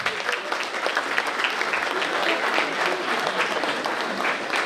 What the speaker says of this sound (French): Je veux qu'on les applaudisse.